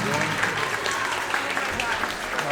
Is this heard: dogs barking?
no